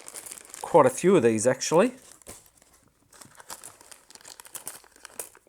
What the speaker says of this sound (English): Put those back in their bag.